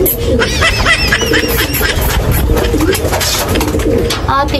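Pigeons give soft, throaty coos close by, over a bustling background with faint voices and light chuckling.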